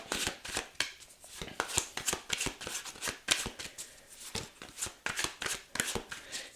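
Tarot cards being shuffled by hand, a steady run of crisp riffling flicks and slaps up close, repeating quickly for several seconds with no voices.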